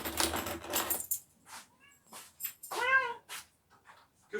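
A house cat meows several times in a row, the clear, close calls alternating with short pauses, with no one talking over them.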